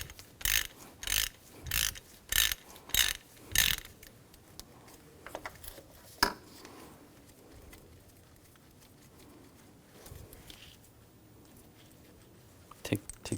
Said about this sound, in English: Use a 13mm socket. Loosen up the bolt.